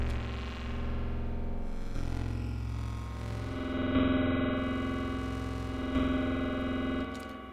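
Dense wavetable synth drone built in Ableton, layered and washed in reverb, a sustained distorted ambient bed with steady tones that shift in texture every couple of seconds, heard alone.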